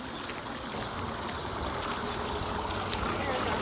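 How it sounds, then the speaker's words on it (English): Irrigation water in an Arizona flood-irrigated yard pours steadily like a small waterfall, a continuous close rushing and splashing with no break across the clip. "It's like a little waterfall right there."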